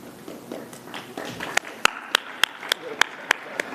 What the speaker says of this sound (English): you got the clapping going